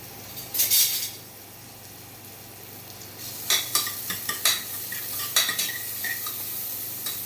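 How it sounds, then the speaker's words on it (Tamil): Onions sautéing in a little oil in a pressure cooker, cooked for drumstick leaf soup: a soft steady sizzle with a few metal scrapes and clinks of stirring, one short burst early and a cluster of sharper knocks later, close by. "வெங்காயம் லேசாக வதங்கினா போதும்."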